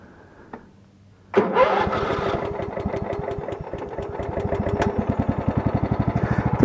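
A riding tractor lawn mower engine cranks and catches, then runs loud and close with a steady rough, pulsing idle that grows slightly stronger toward the end.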